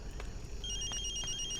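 A telephone rings with a bright electronic trill, starting partway through and repeating in short bursts over a low room hum.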